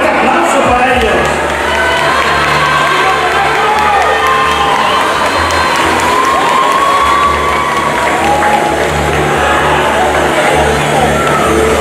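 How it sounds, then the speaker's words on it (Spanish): Crowd at a fair's competition event cheering and applauding the participants, with sustained loud clapping, whoops and children's shouts blending into a dense roar, while voices call out through it. "fuerte aplauso para ellos"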